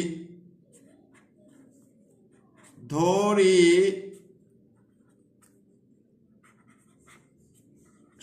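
A math problem is written out by hand. Faint strokes are followed by one loud, squeaky, drawn-out scrawl lasting about a second, and quiet scratches trail off afterward.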